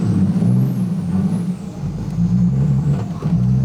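Cummins dually diesel truck fitted with a big smoke stack pulls hard in a third-gear launch, a loud continuous low engine roar that dips briefly mid-run before surging again, with no talk over it.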